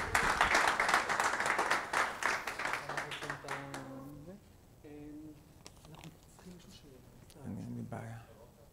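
Audience applause at a startup pitch competition semi-final: a burst of clapping that is loud at first and thins out after about four seconds, after which a voice speaks and some scattered claps remain.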